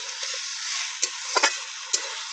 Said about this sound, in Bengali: এবার আমরা ভেজে রাখা আলুগুলো দিয়ে দেব। এবার ভালো করে নেড়ে নেব।